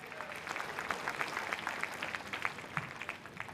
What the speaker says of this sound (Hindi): एक बार जोरदार तालियां मराठे साहब के लिए।